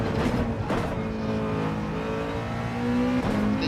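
Engine of a Nissan GT-R GT2 race car in Gran Turismo 7, a steady loud drone with a rising tonal whine at racing speed, alone without talk.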